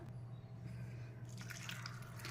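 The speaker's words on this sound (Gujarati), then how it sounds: "હવે આમાં પાણી આપણે થોડુંક એડ કરીશું।" Faint trickle and dripping of water into a pot of homemade tomato sauce, soft and close, growing slightly brighter toward the end, with no voices.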